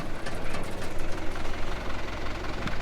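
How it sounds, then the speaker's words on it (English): A farm tractor pulls up and settles into an idle, its steady low engine rumble and knocking chug running continuously up close with no talk over it. "Right now, Joel is pulling up the tractor."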